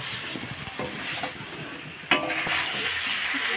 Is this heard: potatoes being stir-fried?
yes